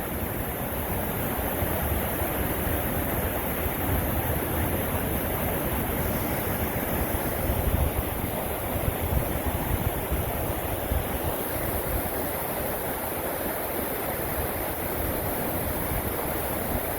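Small waterfalls on a tumbling mountain creek make a steady, broad wash of rushing water, close and continuous with no voices.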